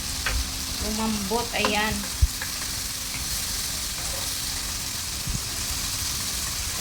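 Chicken hits a hot pan and sizzles steadily, with a stirring clatter and a few sharp utensil knocks, while someone speaks briefly over the frying.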